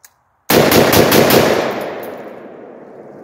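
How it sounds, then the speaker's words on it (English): An AR-10 style Palmetto PA-10 rifle fires five rounds of Tula .308 in fast succession into a dirt pile outdoors. The blasts run together as a loud, close burst, then a long echoing decay, with no talking. "So I'm going to do a quick 5-round succession into that pile of dirt there."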